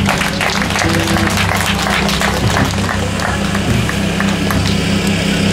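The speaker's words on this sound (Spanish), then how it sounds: "Fuerte palmas," Sustained, dense clapping from a crowd of guests at an evangelical church wedding ceremony, loud and steady for the whole stretch, with a constant low droning tone running underneath and no clear voices over it.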